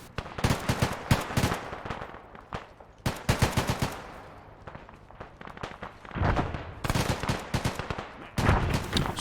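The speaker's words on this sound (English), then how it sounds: "Someone just tried to shoot me." Gunfire in a military video game: rapid bursts of automatic rifle shots in quick, uneven volleys, close and loud, with brief lulls between clusters.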